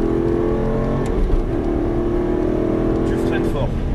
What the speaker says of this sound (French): Redresse et gaz à fond.